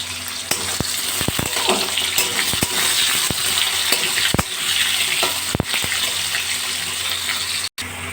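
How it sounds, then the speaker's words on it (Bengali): Potato pieces frying in a pan with salt and turmeric over a raised gas flame give a steady, loud sizzle, broken by a few sharp clatters of stirring. "গ্যাসের ফ্লেমটা বাড়িয়ে এক তিনটি নুন হলুদ দিয়ে আমি ভালো করে আলুগুলো ভেজে নেব"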